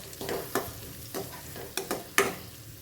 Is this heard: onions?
yes